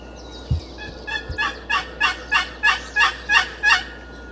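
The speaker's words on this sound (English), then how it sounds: "That's a bird." A wild turkey gobbles in a rapid run of about eight evenly spaced calls that carry from a moderate distance over an open outdoor hush during a spring hunt, with two faint low thumps near the start.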